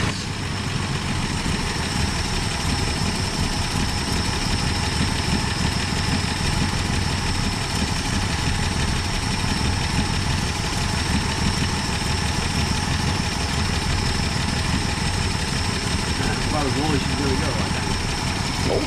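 A Slant 6 engine in a 1966 Dodge Coronet idles steadily, a close, even, continuous rumble that holds at a constant loudness, with occasional talking over it.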